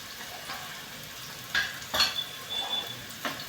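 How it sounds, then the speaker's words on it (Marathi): Onion with turmeric sizzling in a pan over a high flame, with a spoon stirring and scraping the pan in a few soft strokes against a steady, quiet frying hiss. "कांदा मध्ये मध्ये परतत राहायचा आहे, कारण गॅस आपला मोठा आहे."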